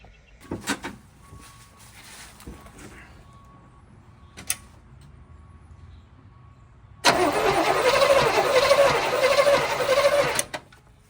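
A 1971 Chevelle Malibu, abandoned and sitting for over twenty years, has its starter engaged and cranks loudly and steadily for about three and a half seconds without firing, after some scattered clunks and quiet shuffling.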